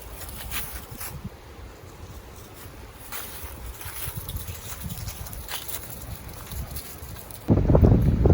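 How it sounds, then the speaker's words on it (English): Steady gusting wind buffets the microphone outdoors at North Toledo Bend State Park, a constant low roar that surges louder near the end. "The wind is kicking out here."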